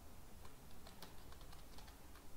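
Faint, irregular clicking of a computer keyboard being typed on, light taps spread across a steady background hiss.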